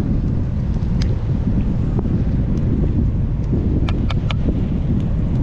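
Strong wind buffets the microphone in a steady, low roar throughout, with a few faint clicks poking through; no one speaks.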